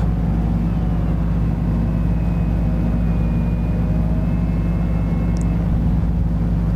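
Aircraft taking off in Flight Sim World over Southern Ireland, a steady loud engine drone with a low rumble and a faint rising whine, continuous with no talk.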